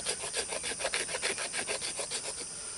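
Steel knife spine scraping wooden tinder in quick, rhythmic rasping strokes, roughly a dozen bright scrapes at a steady pace, close and fairly loud with no talking over it.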